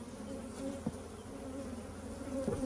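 Bees hum around a beekeeping hive box used to bank queens, a steady close drone with a few individual buzzes drifting nearer and away.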